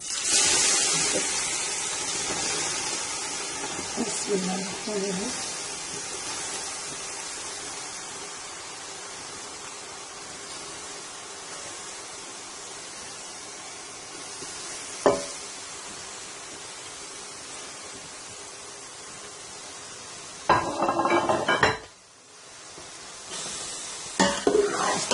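Grated carrots fry in hot ghee with cardamom for gajar ka halwa, giving a soft, continuous sizzle with occasional scraping and stirring clatters, quiet and without any talk.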